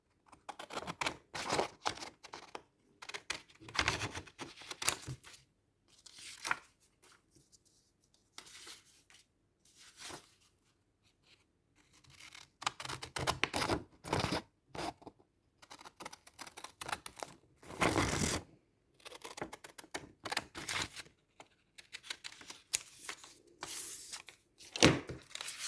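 Scissors cut a strip of paper in a long run of crisp, close snips and rustles that come in bursts with short pauses.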